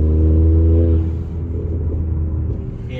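2020 Honda Accord fitted with a Borla S-Type exhaust, a deep rumbling idle-like drone that settles from a steady tone into an uneven burbling rumble, close and loud, with no talk.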